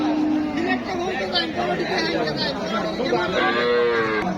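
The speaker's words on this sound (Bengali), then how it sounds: "এখানে গরু কিন্তু প্রচুর পরিমাণ গরু উঠছে" Cattle at a busy cattle market low and moo amid a steady hubbub of crowd chatter, with voices talking close by throughout.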